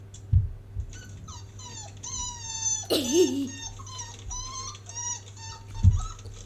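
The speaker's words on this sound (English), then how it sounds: "He's a very funnily squeaking puppy, isn't he?" A puppy squeaks and whimpers in high, wavering cries from a video playing in the room, repeated through the stretch with a louder yelp near the middle and soft thumps at the start and end.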